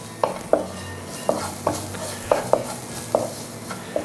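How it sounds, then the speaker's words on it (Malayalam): Garam masala is stirred into frying beef cutlet filling in a pan, a soft sizzle under a series of about ten sharp, regularly spaced utensil knocks and scrapes against the pan, close up and without voices. "അര ടീസ്പൂൺ ഗരം മസാല ചേർത്ത് കൊടുക്കുന്നു നന്നായിട്ടൊന്ന് നമുക്ക് മിക്സാക്കി എടുക്കാം"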